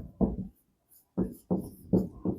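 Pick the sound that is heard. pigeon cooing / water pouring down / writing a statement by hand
writing a statement by hand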